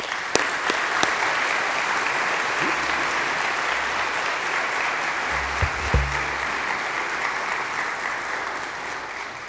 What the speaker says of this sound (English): Please join me in a warm round of applause for Wabash's 16th president